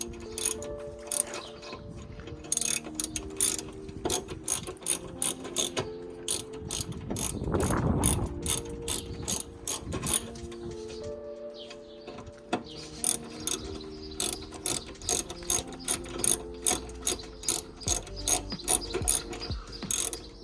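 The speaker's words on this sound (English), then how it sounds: "I will use the ratchet maybe." A hand ratchet works screws out of a Miata headlight motor, giving loud, rapid rows of clicking strokes in repeated bursts, with a brief pause and a duller clunk of handling in the middle.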